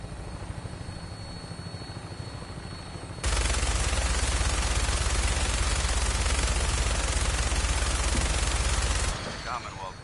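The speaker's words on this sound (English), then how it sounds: "That minigun in front of you is loaded and ready to fire." A minigun fires from an aircraft in Fallout 4, a loud unbroken roar lasting about six seconds, preceded and followed by the steady thrum of helicopter rotors.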